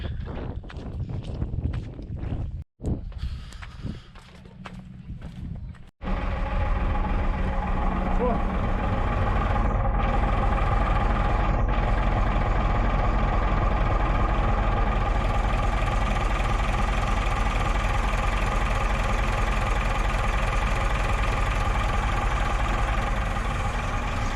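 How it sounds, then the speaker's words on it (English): A motorboat moving slowly through a marina, its engine a loud, steady close rumble that swells after a few seconds of quieter knocking and then holds on continuously. "Now if you're going to come flick around the marina, you need to keep your speed down a wee bit."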